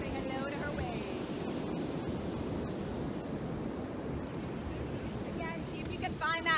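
Ocean waves wash onto a beach near a lifeguard tower, a steady broad rushing surf with wind noise, continuous and moderately loud.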